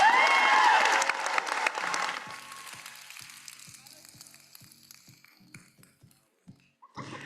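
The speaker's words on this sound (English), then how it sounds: "Give her a big round of applause" An audience at a personal development talk bursts into loud, dense applause that quickly thins out into scattered individual claps and fades to near quiet, with a few last claps at the end.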